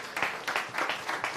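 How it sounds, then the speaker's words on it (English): An audience claps in applause at a community diverse-experiences event in Dubuque, a steady broadband patter of hands with rhythmic swells, moderately close and without talk. "Once again, can we give them a round of applause"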